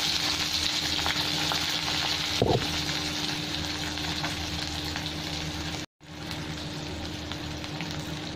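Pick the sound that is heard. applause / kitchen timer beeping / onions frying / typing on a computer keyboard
onions frying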